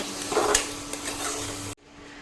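Tomato puree and masala fry in a pan, giving a close, steady sizzle and stirring scrape that cuts off abruptly near the end.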